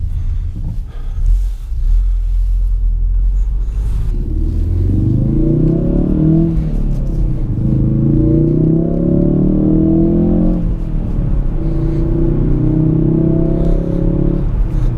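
A 2017 Ford Focus RS in normal drive mode accelerating, its engine rising in pitch through three gear pulls with brief dips at the shifts, loud and close over a constant low road rumble.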